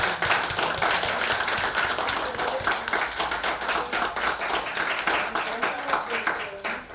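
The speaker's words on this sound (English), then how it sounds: "Give a big round of applause to Sonika and Devyani for putting this beautiful" A crowd at a poetry evening claps in dense, sustained applause, the rapid overlapping claps holding steady from start to finish.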